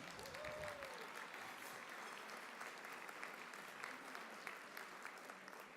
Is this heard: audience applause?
yes